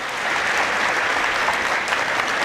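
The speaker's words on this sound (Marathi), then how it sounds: "त्या आमचे मित्र सुमित गोटेसाठी एकदा जोरदार टाळ्या वाजवा" Audience applause rings out at a Marathi speech event, a dense, steady wash of many clapping hands that carries on loud and unbroken.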